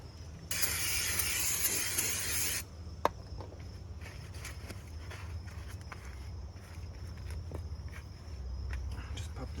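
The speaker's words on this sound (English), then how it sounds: "we're going to hit it with the brake cleaner, get any oil residue off of it" Brake cleaner sprays from an aerosol can onto a Nissan Murano brake rotor in one steady, loud hiss lasting about two seconds. A sharp click follows, then quiet tinkering.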